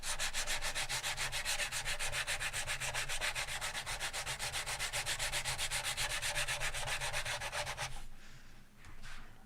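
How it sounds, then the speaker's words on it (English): Sanding filler on the sides of a piece, with fast rhythmic back-and-forth rubbing strokes held steady at close range for about eight seconds before stopping. "now I'm going to start sanding the sides"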